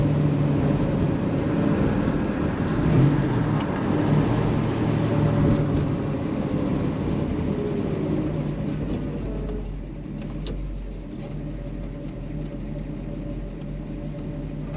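A 1968 Chevelle SS 396 driving in first gear at about 20 miles an hour, its engine giving a steady low rumble with a constant drone that eases off slightly toward the end.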